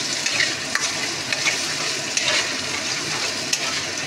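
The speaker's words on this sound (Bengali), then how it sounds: "এবার মশলাটা একটু কষানো হোক, এই মশলার গন্ধগুলো ছাড়ুক" Ground spice paste for potol dorma (stuffed pointed gourd) stir-fries in a pan with a loud, continuous crackling sizzle and brief scraping stirs, close up and without speech.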